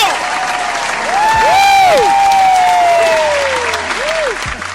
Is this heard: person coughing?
no